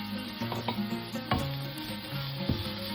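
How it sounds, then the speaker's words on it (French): Garlic sizzles in a hot dish for a chakchouka, with a steady frying hiss running throughout and a few sharper clinks and stirring knocks, close and moderately loud, with no one speaking. "je prends mon ail et je le mets dans le plat"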